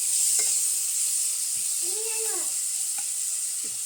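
Mango pieces stir in a pan as they cook down for payasam, giving a steady sizzling hiss with a few soft scraping strokes of the spoon, close and continuous.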